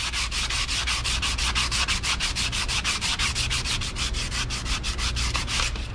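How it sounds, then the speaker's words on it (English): Sandpaper rubbing back and forth over a wheel area on a road-force balancer, a steady, close rhythmic scratching of even strokes that runs continuously with no talk. "I'm gonna sandpaper that area."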